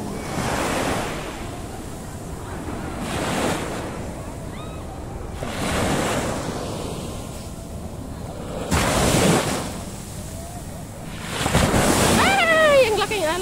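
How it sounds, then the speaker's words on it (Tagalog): Big ocean waves crash repeatedly, each surge rising into a loud broadband wash at regular intervals, with wind noise on the microphone and scattered voices calling out between breakers. "Ang laking alon."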